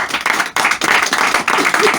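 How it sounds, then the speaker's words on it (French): Loud, close clapping from a theatre audience at a comedy hypnosis show, dense bursts broken by brief dips, with a voice briefly heard amid the clapping. "Allez-y, applaudissez"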